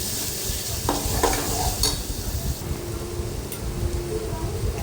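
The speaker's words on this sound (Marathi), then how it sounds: "त्याच्यामध्ये टाकूया तेलामध्ये वाटण व्यवस्थित परतून घ्यायचं मसाला सगळा" Onion-coconut masala paste sautéing in oil for an egg curry, a soft steady sizzle under repeated scraping strokes of a spoon stirring the thick paste, close by.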